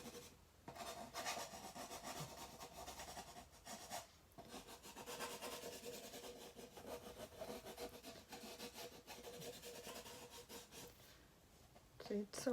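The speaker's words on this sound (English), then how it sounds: "So you can use one of these and give it a quick sand." Hand-sanding a small craft piece, steady scratchy rubbing strokes close to the microphone, continuous and fairly quiet, with a voice talking over it.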